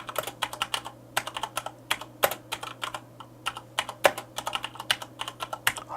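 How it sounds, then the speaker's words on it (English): Brisk typing on a Corsair K70 RGB MK2 mechanical keyboard with Cherry MX Brown switches, close and clear, with uneven bursts of clacky keystrokes and short pauses, no voices. "So you should be able to hear the keyboard."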